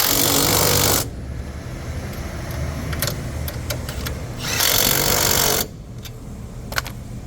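A power tool tightens a ball stud nut on a car's front strut, with two loud bursts of whirring and hammering around a quieter stretch of scattered clicks and clanks, and no talking.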